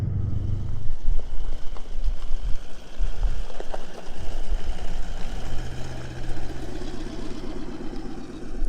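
Steady off-road 4x4 engine drone while driving along the Canning Stock Route in outback Australia, a continuous low rumble with rattles and jolts over rough track, loud and close throughout.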